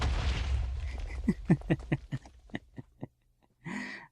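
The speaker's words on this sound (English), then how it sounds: "This gun is crazy loud but crazy fun." A gun in a Minecraft modpack fires a loud, booming blast, followed by a rapid run of about a dozen short, punchy pops that thin out and stop, then one more burst.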